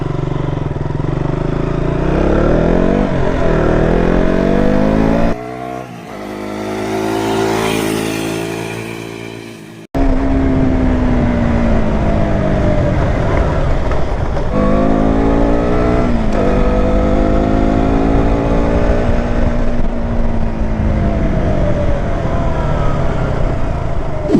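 A KTM Duke 200 motorcycle engine idling and then revving up repeatedly, loud and close, with a brief drop in level midway.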